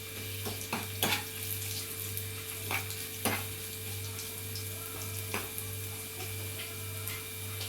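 Mustard seeds and curry leaves roasting in hot oil for an ash gourd moru curry give scattered sharp pops and crackles over a low, steady hum, close and fairly quiet.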